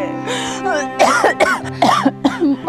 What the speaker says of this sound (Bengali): কাশিটা কি আগের থেকে বাড়ছে?